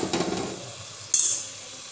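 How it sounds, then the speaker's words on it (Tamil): Spoon stirring cooked double beans into oily masala in a pan, giving a few soft scraping strokes and one sharp metallic clink, close and fairly quiet, with no talk. "இப்போ டபுள் பீன்ஸை நல்லா கலந்து விட்டுக்கோங்க."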